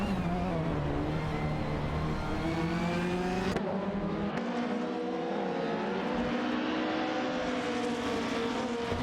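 A Peugeot 406 and an Alfa Romeo 156 GTA race in a video game, their engines revving in rising and falling harmonic whines, with a sharp gear change midway and no voices.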